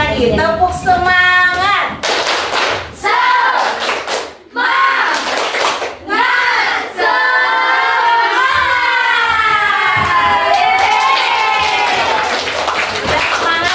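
Children in a classroom repeat the 'tepuk semangat' clapping chant, sharp rhythmic clap bursts interleaved with loud, drawn-out chanted shouts from the group, near and lively.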